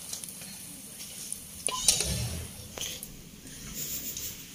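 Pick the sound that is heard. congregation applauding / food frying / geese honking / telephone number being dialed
food frying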